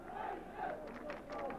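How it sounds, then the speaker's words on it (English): A football crowd at Loftus Road during QPR v Birmingham City raises a loud, continuous roar of cheering and chanting that swells and dips in waves across the whole moment. "certainly finding the voice now of this Loftus Road crowd"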